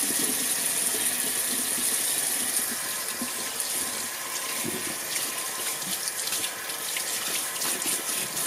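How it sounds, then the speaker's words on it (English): Steady stream of tap water running from a faucet during hand washing, a continuous broadband hiss that stays fairly even and close throughout, with no voices. "like touching the faucet to turn the water on and off"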